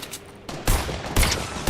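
Heavy shotgun blasts in a video game, two or three loud booming shots in close succession, each ringing out over low background noise.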